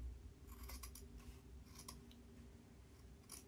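Scissors snipping through fabric for a shirt, several close, crisp cuts in quick bursts over a quiet background, faint and without talk.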